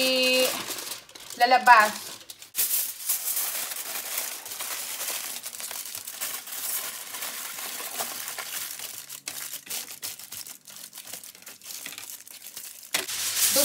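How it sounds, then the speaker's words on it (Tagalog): Aluminum foil crinkles and tears as it is wrapped around a pork belly for crispy lechon, with steady close crumpling for most of the stretch and a voice speaking briefly near the start. "Ibabalot ko na siya ngayon sa aluminum foil."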